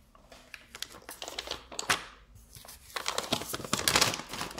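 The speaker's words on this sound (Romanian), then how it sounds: "am primit o pungă din aceasta de hârtie de la ei." A paper bag is handled up close, giving crisp irregular crinkles and rustles that swell louder toward the end, with no talk.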